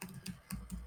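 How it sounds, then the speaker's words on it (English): Four quick, faint keystrokes on a computer keyboard, evenly spaced in a short burst of typing. "To run our program, I need to type Python"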